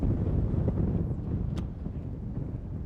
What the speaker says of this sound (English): That wind is just really stiff out here.